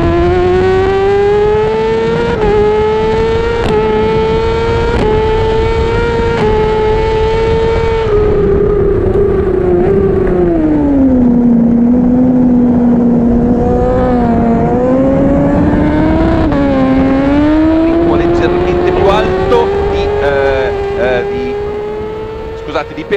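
A BMW HP4 Race motorcycle at full throttle during a race at Imola, its loud engine whine holding high, dipping and climbing again through gear changes in one continuous, close, roaring stretch.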